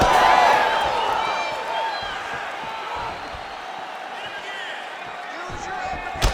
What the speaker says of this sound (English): the crowd continues to react with every passing land